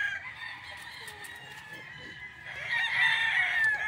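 Rooster crowing among stag gamecocks at a farm in Bacolod City, a drawn-out call that swells louder near the end over a faint background of other birds.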